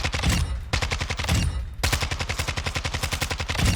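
SMG gunfire in Warzone 2, several rapid bursts of loud close shots with short pauses between them, the final burst longest and steady.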